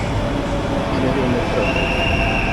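Riding a Mumbai metro train: a loud, steady rumble of the carriage with a faint rising squeal, while people talk over it.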